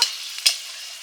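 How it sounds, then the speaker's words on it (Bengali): Leafy greens, karai shak picked from the garden, sizzle in a hot pan, a brief steady hiss broken midway by one sharper stir that flares the crackle. "কড়ি শাকটা ভাজা করব"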